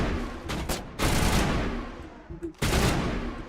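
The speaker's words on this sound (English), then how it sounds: "they're already shooting at us" Enemy gunfire in Mass Effect 1 rattles in loud, dense bursts of rapid shots, broken by brief pauses, with the full sustained volleys dominating the soundscape.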